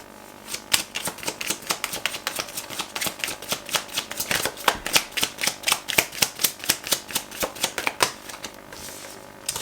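A deck of tarot cards is shuffled by hand, giving a steady, close run of crisp riffling snaps and flutters in quick rhythm with no talking.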